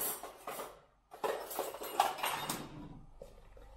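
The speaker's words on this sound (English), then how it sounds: "mix up these dry ingredients here" Dry ingredients for a low-calorie cheesy bread dough being stirred together in a bowl, giving soft scraping and clinking of utensil against dish in short bursts, with a brief pause before steadier mixing.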